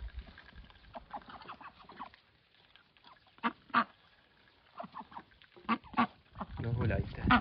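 Domestic ducks quack and honk in scattered bursts while being fed in a farmyard in the evening, with quieter stretches between calls and a rustling rise at the end.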